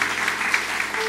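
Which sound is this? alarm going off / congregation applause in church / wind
congregation applause in church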